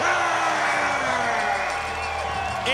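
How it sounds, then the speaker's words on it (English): A hometown crowd roars and cheers for fighter Bobby Voelker at a Shamrock FC cage fight, a loud, sustained wash of voices under an announcer's booming introduction. "And the hometown crowd goes nuts"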